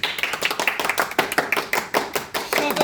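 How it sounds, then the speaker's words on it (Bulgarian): Several people clap at a regional card-game tournament, a run of sharp, uneven hand claps at close range with no talking over them. "Еро, пляскай ти, бе!"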